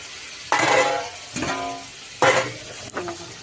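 Mustard seeds and dried red chillies tempering in hot oil, giving a few loud bursts of crackling sizzle about a second apart with faint clinks of a pan between them, no talking.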